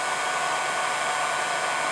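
Hair dryer or heat gun blowing steadily on its high heat setting, a continuous broadband airy whoosh with motor hum, close and loud, with no voices over it.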